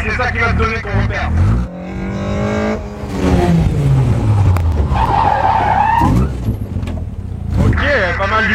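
A car drifting and skidding through a gymkhana course with handbrake turns, tyres squealing in long sweeps while the engine revs and drops, someone talking over parts of it.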